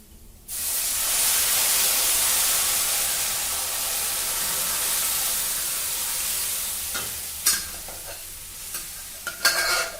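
Mati mahor dal (black gram lentils) hits a hot pan of fried spices and turmeric with a sudden loud sizzle that hisses steadily, followed near the end by a few sharp scrapes and clinks of stirring.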